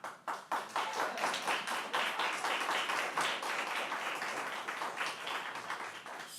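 An audience at a public freeholder meeting claps in a steady, even patter for about six seconds after a citizen's comment, fairly close and moderately loud, easing off slightly at the end.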